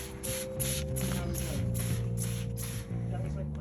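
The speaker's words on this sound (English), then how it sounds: "spray down the inside just the same" A spray bottle mists the inside of a fabric hug tunnel sleeve in a quick series of about eight bursty hisses. The spraying plays over a steady background of music.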